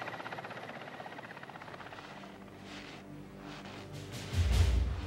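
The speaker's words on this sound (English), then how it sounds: "The helicopter races back to refuel." A helicopter flies with a steady, faint rotor chop and engine drone, growing gradually louder toward the end with a low thumping surge.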